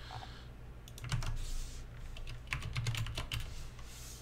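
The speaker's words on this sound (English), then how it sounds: "I hope my keyboard isn't too loud on the stream." Steady typing on a computer keyboard during a livestreamed office-hours session, with soft clustered key clicks at close range, brief bursts and pauses over a low background hum, and no talking.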